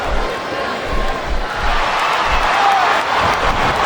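Arena crowd noise from WWE SmackDown vs Raw 2007 during a women's submission match, a steady broad roar of spectators with rising and falling chant-like swells, loud and continuous throughout.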